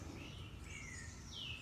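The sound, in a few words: birds chirping outdoors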